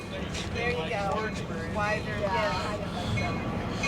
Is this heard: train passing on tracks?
yes